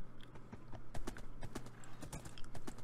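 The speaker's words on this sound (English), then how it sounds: "I has a horse." Horse hooves clip-clop in Minecraft, a quick irregular series of crisp clopping steps over a faint low hum, fairly quiet and without talk.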